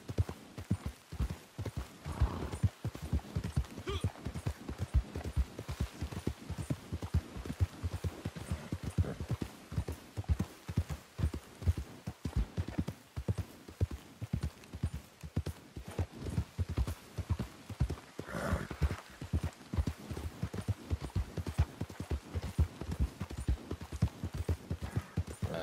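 Horse galloping under a rider in the game Red Dead Redemption 2, a fast steady rhythm of hoofbeats on the ground with an occasional snort, continuous and close.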